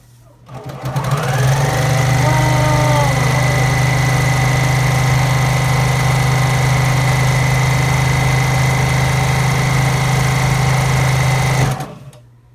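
A sewing machine stitching a custom water bottle cover at high speed, one long continuous steady whirring run that starts up and stops cleanly.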